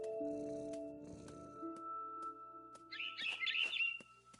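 Bird chirps in the video game What Remains of Edith Finch, a quick cluster of bright tweets near the end, heard over soft sustained tones and faint ambience, with no one speaking.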